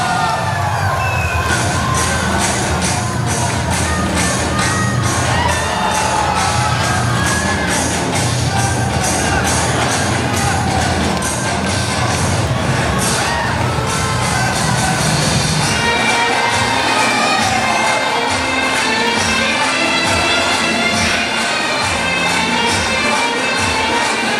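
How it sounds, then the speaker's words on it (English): A stadium audience at a professional gymnastics league competition cheers loudly and continuously, with shouts, whoops and high-pitched voices rising from the crowd in a dense, sustained roar. "the cheering that the audience is making"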